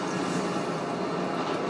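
A train rolls along in the Spider-Man PS4 video game, giving a continuous, loud, even rumble with a broad roar and no voices over it.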